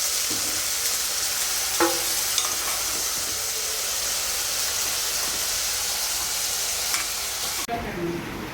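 Meat fries in a pan with a loud, continuous sizzle and hiss close by. Occasional clinks of stirring break through before the sizzle abruptly drops away near the end.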